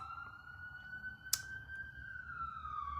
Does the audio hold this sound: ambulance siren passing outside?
yes